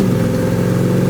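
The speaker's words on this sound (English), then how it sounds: "it's got a nice sounding exhaust on here." A 1973 Chevy Impala's exhaust rumbles steadily up close, a loud, even engine drone through the whole short stretch with no talking.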